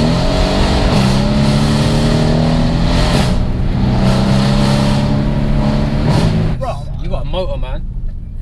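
Loud, steady engine drone of a 620 bhp Mercedes C63S AMG while driving, holding a sustained note with a slight pitch rise before easing off near the end.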